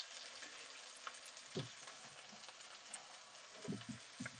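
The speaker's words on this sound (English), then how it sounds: "crack the egg into the space, let it set a bit, then break the yolk and stir fry it in" Egg cooks in a pan alongside prawns and chicken, a faint steady sizzle with a few soft scraping stir sounds and small pops, quiet and close.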